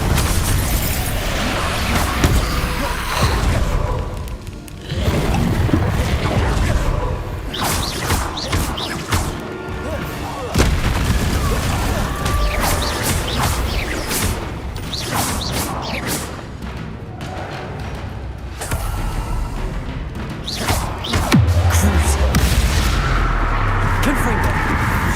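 Confringo blasting spells from Hogwarts Legacy go off in a dense run of loud booming explosions and crashes, with shouted spell calls and talk mixed in throughout.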